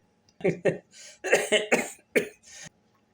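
A short series of harsh coughs, several bursts in quick succession following a bout of laughter, close and fairly loud.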